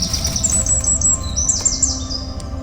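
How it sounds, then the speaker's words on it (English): Several birds chirp and tweet in quick, high-pitched calls over a low, steady outdoor rumble in a forest in Istanbul, Turkey. "So many birds are going and passing by."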